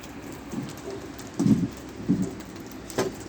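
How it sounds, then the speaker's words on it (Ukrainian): Huge water drops falling during a hailstorm, a handful of separate heavy plops and pats landing irregularly over a steady rain-like hiss, fairly close and moderately loud. "це крапають якісь величезні краплі."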